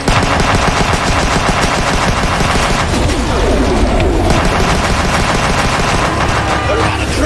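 Relentless rapid-fire bursts from a heavy vortex cannon in the cyberpunk side-scrolling shooter Huntdown, a loud dense barrage of overlapping blasts with a brief dip midway before the pounding volley resumes.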